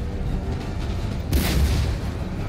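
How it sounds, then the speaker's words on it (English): Grapeshot blasts from cannons in Empire Total War, fired at advancing infantry on a snowy battlefield: a steady low rumble of battle, then a sudden loud, crackling burst of fire that roars on and decays over about a second. "I love grape shot. It is so brutal."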